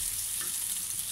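Sliced meat sautéing in a hot pan for ginisang monggo, a steady, bright sizzle that stays loud and even throughout the short stretch.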